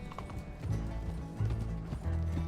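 Horse hooves clip-clopping at a trot in Red Dead Redemption 2 on the streets of Saint Denis, steady rhythmic hoofbeats with a low rumble beneath and no talk.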